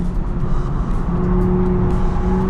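A BMW driven on a race track, its engine holding a steady loud drone close by as it comes off the brakes through a corner, with no other sounds over it.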